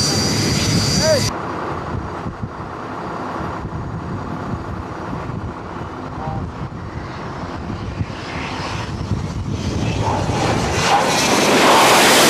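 Jet aircraft taking off and landing on an aircraft carrier deck produce a loud, sustained engine roar that swells toward the end, with people talking and exclaiming over it.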